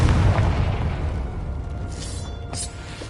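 Confringo fire spell bursting in Hogwarts Legacy, a loud low boom that decays through a crackling tail, followed by a short bright burst near the end.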